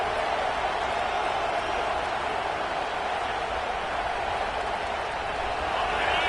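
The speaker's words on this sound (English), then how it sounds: "This crowd bringing the energy and noise early" A large stadium crowd roars continuously, a steady dense wash of cheering and noise with no pauses.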